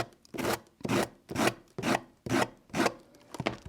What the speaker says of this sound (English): So I just got my little sanding block and I'm just sanding this edge back.